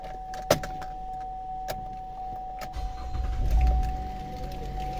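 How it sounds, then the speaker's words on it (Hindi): Ignition switched on in a 2014 Chevrolet Traverse: a sharp click, a steady electronic tone and faint chimes, then a low motor whir swelling up as systems power on. "इग्निशन ऑन करके दिखा देता हूँ आपको"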